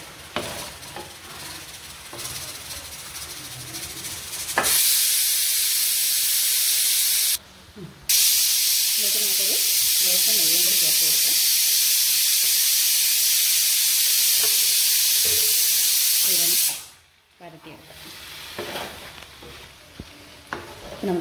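Eggs are stirred into hot biryani gravy in a pan, giving a loud, steady sizzle and hiss that runs unbroken for about twelve seconds, with one brief pause, followed by quieter scraping as the frying settles.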